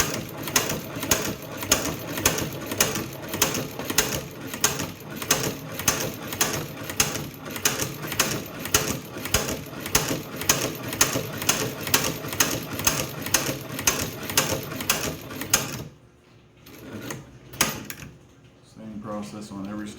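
A leather sewing machine stitches a diamond stitch pattern in a steady, loud, rapid mechanical rhythm for about sixteen seconds, then stops, leaving quieter handling noises.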